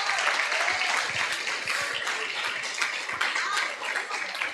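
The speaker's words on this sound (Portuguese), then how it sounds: "Isso, aplaude e glorifica então." Church congregation applauding and cheering in praise during a sermon, a steady loud wash of many hands clapping with some voices mixed in throughout.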